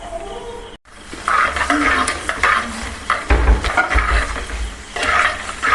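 Coconut pieces and crushed ginger frying in oil for a Kerala prawn roast, a close sizzle broken by scraping stirs and clinks of a utensil against the pan, with a brief dropout near the start.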